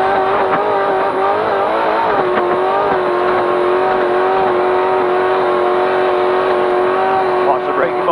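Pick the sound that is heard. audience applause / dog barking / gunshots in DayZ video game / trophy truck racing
trophy truck racing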